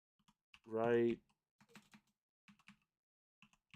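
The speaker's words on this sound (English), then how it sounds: "So I have to type that one properly." Brief bursts of typing on a computer keyboard, scattered soft key clicks spread across the moment, close up, following a short vocal sound.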